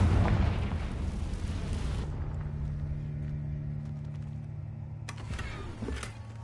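Confringo blasting spell in the video game Hogwarts Legacy, a loud booming explosion that rumbles and fades over a couple of seconds, followed by a second sharp burst near the end.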